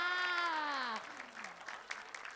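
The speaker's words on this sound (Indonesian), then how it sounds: "beri tepuk tangan semuanya dulu di dong" A tone that slides downward gives way to scattered, fairly quiet clapping from an Indonesian comedy show audience, uneven and thinning over about a second and a half.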